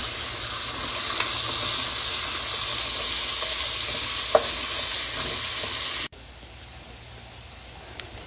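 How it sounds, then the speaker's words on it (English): Meat sizzles and fries in a pan of garlic meat sauce while being stirred, a steady broadband hiss that runs loud for about six seconds, then drops to a quieter simmer with a few small clinks. "Give that a quick stir and we're going to throw in the meat."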